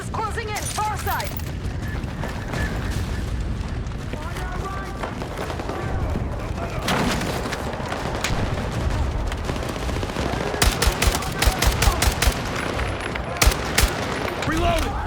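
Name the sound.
gunfire in the video game Battlefield 6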